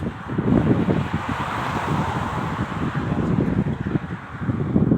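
Wind blows outdoors during a pigeon race flight, roaring and buffeting the microphone in a loud, steady gusty rumble with no talk.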